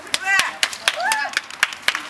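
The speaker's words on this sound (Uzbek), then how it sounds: "Olqishlar." Scattered hand claps ring out at a blood donation charity event, sharp separate claps from a small group mixed with voices calling out nearby.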